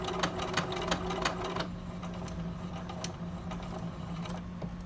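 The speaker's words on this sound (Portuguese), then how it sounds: "Tiro o arremate e começo a costurar." Sewing machine with a presser foot stitching elastic, a quiet, rapid mechanical clatter with a steady motor hum, busier at first and then settling into a softer, even run.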